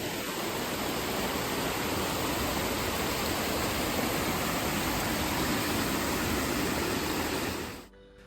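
A waterfall at a roadside wayside rest pours in a steady, loud, broadband rush that holds constant without pause, then cuts off abruptly near the end.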